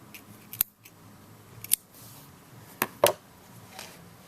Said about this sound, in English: Cut that loose end off.